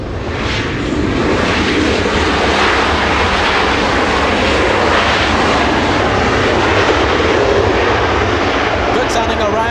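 WestJet airliner arriving at LAX, a loud, steady, broadband engine roar that stays constant throughout.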